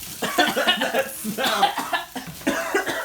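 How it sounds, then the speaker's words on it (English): Several bursts of harsh coughing from the smell of kimchi fried rice cooking come in quick succession, close and loud, mixed with a little laughter. "We're coughing because it's good."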